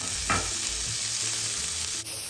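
Chicken pieces stir-fry with a little oil in a wok beside frying egg, a constant close sizzle broken by a brief scraping clatter of the spatula, with no one speaking.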